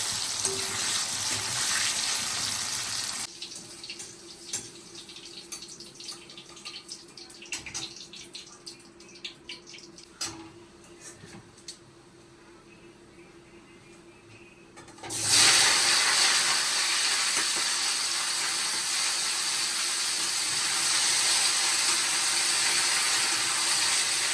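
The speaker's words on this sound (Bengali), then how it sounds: "পনিরে আমি লবণ হলুদ সব কিছু আর কি মাখিয়ে নিয়েছি সব কিছু মিশিয়ে নিয়েছি তারপরে তাই এখন ফ্রাই করছি" Paneer rubbed with salt and turmeric fries in a hot pan, a loud, close, steady sizzle that softens for a stretch before surging back strongly and continuing.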